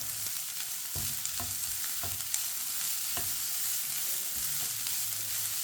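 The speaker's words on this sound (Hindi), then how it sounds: "गाजर को भी 2 मिनट के लिए पका लेंगे।" Grated carrots sizzle and fry in a hot pan for aloo tikki, a steady bright crackle with a few soft stirring knocks scattered through it, close and continuous with no talking.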